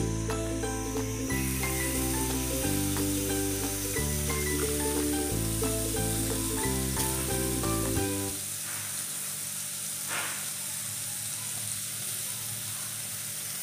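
Butter sizzles and hisses in a hot pan as the base for rajma gravy, a steady bright frying crackle that runs under background music at first, then carries on alone.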